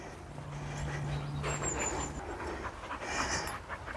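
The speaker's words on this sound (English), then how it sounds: "These are my two spaniels." Two spaniels, a rescue sprocker and a springer, pant steadily and close by on a countryside walk through fields, with faint background noise.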